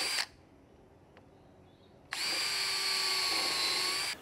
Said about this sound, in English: Then go ahead and pre-drill on both sides.